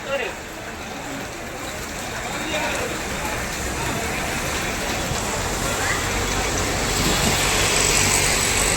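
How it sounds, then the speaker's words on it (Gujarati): Rain falls at an outdoor street market, a dense steady hiss that grows slightly louder. Traffic noise runs underneath and a voice speaks briefly over it. "વરસાદ પડે છે."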